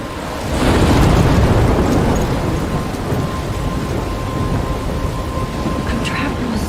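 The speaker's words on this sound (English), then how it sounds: "I'm trapped in a storm?" Thunderstorm in the video game Life is Strange: a heavy rolling thunder rumble swells early and fades into steady loud rain pattering on surfaces, with a faint voice briefly audible.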